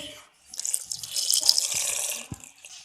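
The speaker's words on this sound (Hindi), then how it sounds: "पानी डाल देंगे" Water pours and splashes into a cooking pot of khausa ingredients for a couple of seconds, close and fairly loud, starting and stopping abruptly.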